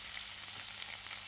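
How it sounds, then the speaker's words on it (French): Beef fillet skewers frying in a couple of spoonfuls of oil in a non-stick pan over low heat, a soft, even sizzle that hisses steadily and quietly without any voices. "J'ai mis 2 cuillères à soupe d'huile dans une poêle anti-adhésive et je vais frire"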